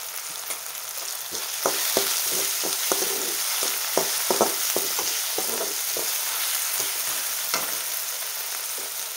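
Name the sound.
leftover rice with tomato being stir-fried in pan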